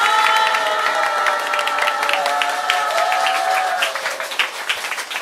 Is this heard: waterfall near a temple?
no